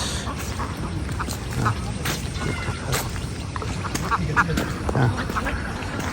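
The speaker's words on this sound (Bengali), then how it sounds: "ক্যাটওয়াক দিচ্ছে হাঁস" Ducks quack now and then over a steady outdoor background, with a soft murmur of voices in the distance.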